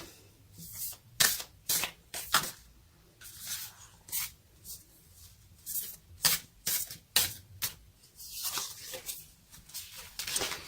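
Tarot cards shuffled by hand in quick riffling bursts, close and fairly quiet, with short pauses between repeated shuffles and no talking.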